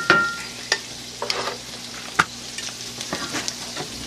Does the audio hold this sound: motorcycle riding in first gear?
no